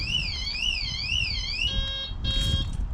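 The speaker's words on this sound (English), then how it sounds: "there's the alarm sounded because I've moved the van" A caravan alarm wails in a fast warbling electronic tone after the van is moved, then gives way to steady high beeps and bursts of tone, all fairly loud against a low rumbling background.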